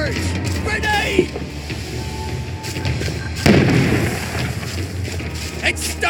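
A grenade explodes in the video game We Happy Few, a sharp loud burst midway amid a noisy battle scene, with shouting voices and other pops around it.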